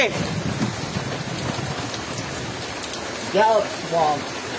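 Rain falls at Candolim beach in Goa as a steady hiss, with voices talking over it and two short, raised vocal calls near the end.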